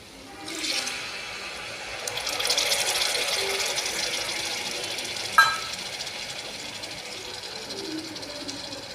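Yogurt poured into a pan of frying spice paste made with ground chillies, giving a steady close sizzle and hiss that swells after the first second, with one sharp crackle midway and no talking.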